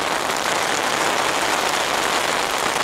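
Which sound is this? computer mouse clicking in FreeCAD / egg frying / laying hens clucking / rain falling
rain falling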